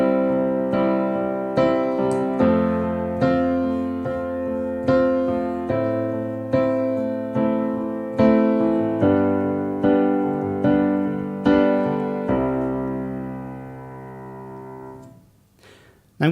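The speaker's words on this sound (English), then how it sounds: "And I'm going to assume that you want to accompany yourself singing on the piano." Piano chords struck in a steady rhythm, each ringing and decaying before the next, clear and close, with no voice singing along; the sustained harmonies fade out at the end.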